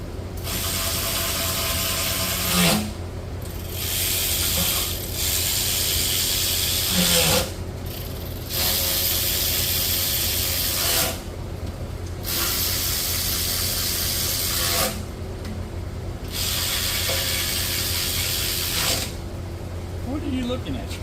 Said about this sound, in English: we snug these bolts